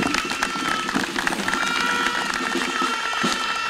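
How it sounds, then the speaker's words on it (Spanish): An audience applauding at a baseball association event, a steady wash of clapping from a crowd filling the space, with faint murmurs and cheers mixed in, loud and continuous. "pido un fuerte aplauso para ustedes"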